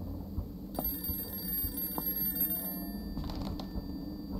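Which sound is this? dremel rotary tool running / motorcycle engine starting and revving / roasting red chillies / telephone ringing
telephone ringing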